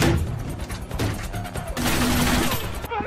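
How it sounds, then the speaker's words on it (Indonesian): Bursts of gunfire from the film The Kingdom, as agents shoot at terrorists up a building, crack in rapid clusters over a loud, busy background with thuds and impacts. "Lalu mereka mulai menembaki para teroris tersebut satu persatu."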